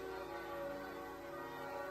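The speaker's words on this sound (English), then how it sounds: "Bells." Church bells ring faintly and steadily from a distance in a small town, a soft sustained metallic hum with no voices over it.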